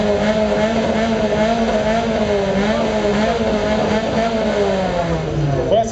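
A tuned car's loud engine roars and revs continuously nearby through its modified exhaust, its pitch wavering up and down, with a muffled voice briefly underneath, at a tuning meet.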